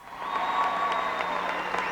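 Steady applause from a crowd of supporters at a 1998 party fundraiser for President Bill Clinton, a continuous clatter of clapping under a faint tonal hum.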